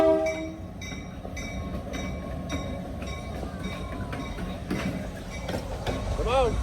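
A train rolls past nearby with a continuous rumble and clatter of rail cars, faint horn-like tones near the end, while people talk over it.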